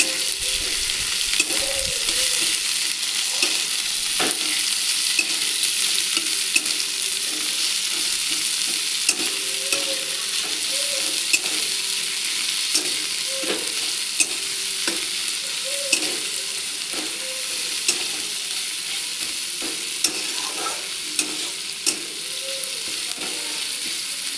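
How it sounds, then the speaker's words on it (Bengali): Two chopped onions fry in oil in a kadai, giving a steady, close hissing sizzle that runs unbroken throughout, with faint tonal sounds drifting in the background. "এখন দিয়ে দিচ্ছি কড়াইতে পেঁয়াজ"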